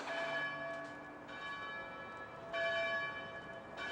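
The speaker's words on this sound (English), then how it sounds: "Church bells are off again." Church bells ring steadily with sustained overlapping tones, swelling again partway through, moderately distant and alone with no talk, in a small-town Christmas setting.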